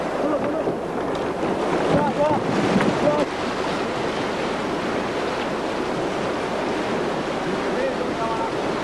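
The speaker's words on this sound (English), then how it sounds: "White water provided some thrills and spills." A boat runs white water rapids on the Tenasserim River, with a continuous roaring rush of water and heavy wind buffeting. Brief, faint voices come through the spray.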